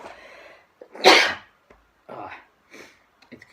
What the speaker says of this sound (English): it makes me sneeze all the time